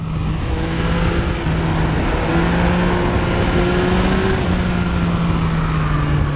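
A 2023 Yamaha XSR900 triple-cylinder motorcycle engine drones steadily under load while riding, a loud close growl with a constant hum of wind.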